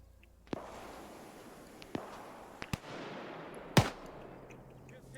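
Gunfire in the video game Arma 3: a handful of sharp, scattered shots over a low background rumble, the loudest crack near the end, with quiet talk underneath.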